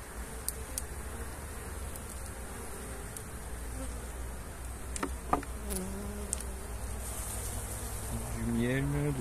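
A honeybee swarm at an open hive hums with a soft, continuous buzz, while individual bees whine past up close; quiet speech and handling noises sit underneath.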